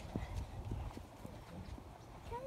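Donkeys at a petting farm make faint hoof clip-clops, a few irregular knocks on firm ground amid quiet outdoor ambience.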